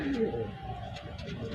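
A pair of pigeons cooing nearby, soft low throaty calls early on over a faint background hum.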